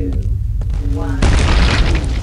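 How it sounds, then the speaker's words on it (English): An explosion in the Quake 2 shooter erupts as a sudden, loud, roaring boom that sustains and rumbles. Faint game tones and a voice come before it. "Explosion imminent."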